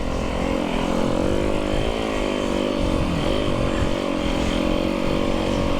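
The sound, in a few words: snow bikes and sleds riding past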